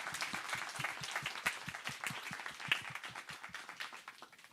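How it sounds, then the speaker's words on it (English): Round of applause from a town hall audience for a panel in Seattle, a thinning crowd of individual claps that is moderately loud, tapering off toward the end. "Can we get a round of applause for the panelists"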